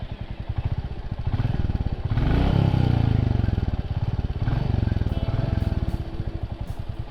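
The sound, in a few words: 2021 Royal Enfield Classic 350cc J-series engine running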